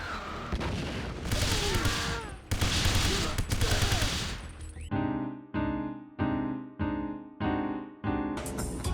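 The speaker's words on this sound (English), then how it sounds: "There's also this really neat feature, which I call Pierce runs and guns people" Sustained automatic gunfire from a James Bond video game, two long dense bursts followed by a series of evenly spaced, loud booming shots with ringing decay.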